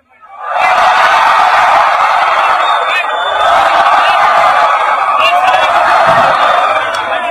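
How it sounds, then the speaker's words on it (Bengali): Students at a festival shout in unison, a loud massed roar of voices that rises fast, holds for several seconds with slight swells and dips in loudness, and continues steadily to the end. "এবার আমার হাত যত উপরে থাকবে তত জোরে চিল্লাবা"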